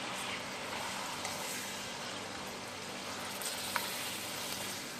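Green chillies and vegetables frying in oil in a karahi, giving a steady, quiet sizzle throughout with a faint clink partway through.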